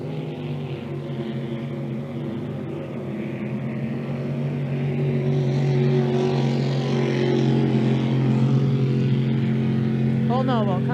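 Racing boat engines at full throttle during a spring classic boat race, a loud sustained droning roar that holds steady and swells slightly, with an announcer talking over it.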